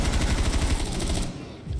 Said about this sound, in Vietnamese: Súng máy liền nhé, súng máy liền.